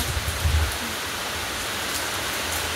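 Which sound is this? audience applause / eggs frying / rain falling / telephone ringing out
rain falling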